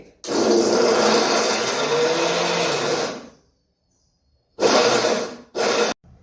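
Mixer grinder whirring loudly for about three seconds, then silence, then two shorter pulsed bursts of grinding.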